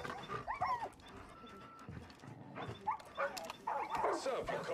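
Caged dogs in the Far Cry 5 video game bark, yip and whimper in scattered bursts at moderate distance, mixed with someone talking over them.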